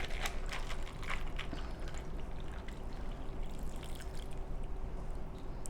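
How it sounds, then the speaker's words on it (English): Hibiscus lemonade iced tea poured slowly over ice in a glass, a soft continuous trickling pour with faint clinks and crackles of ice, close and quiet with no talking. "you're just gonna wanna carefully and slowly pour it over the ice"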